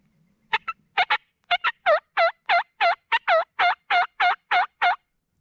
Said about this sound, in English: So every gobble that I'm hearing is coming from that direction over there.